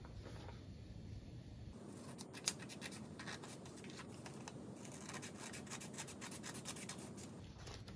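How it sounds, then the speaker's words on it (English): Scissors cut through a folded section of paper for a salmon craft with faint, repeated close-up scraping snips and no talking. "we're gonna take our scissors, and we're gonna cut off this extra section right here"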